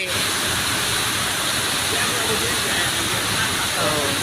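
Steady, dense rain hisses continuously and loudly over a flooded elephant show ground, a broad unbroken wash of falling water with no pauses.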